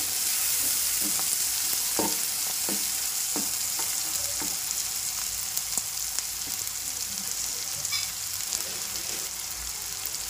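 Fenugreek leaves fry in hot oil for mutton curry, a continuous close sizzle broken by scattered crackles and pops throughout, with no talking.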